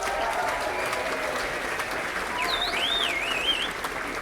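Festival audience at Woodford Folk Festival 2019 applauding a musician, a steady dense wash of clapping from a large crowd throughout, with a faint whistle rising and falling near the end.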